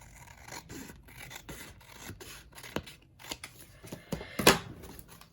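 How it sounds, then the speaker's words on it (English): Scissors snip through the sticker side of a craft kit in a quick, irregular series of close, crisp cuts. One sharper snip stands out near the end, and no one speaks. "I'm going to cut off the sticker side."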